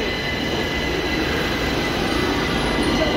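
A Rapid Metro train in Gurgaon pulls in nearby, its steady rail rumble and wheel squeal swelling slightly as it approaches, with no talking.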